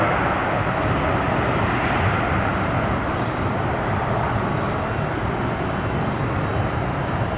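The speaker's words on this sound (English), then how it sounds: "It is a United 737-800." A United Airlines Boeing 737-800 jet roars at Columbus airport, a broad, loud, continuous engine noise that stays steady throughout with no talk.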